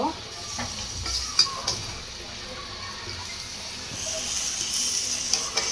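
Beef lung pieces with potatoes stirred in a pan, close wet sizzling with intermittent scraping and clinks of a spoon against the pan, no talk.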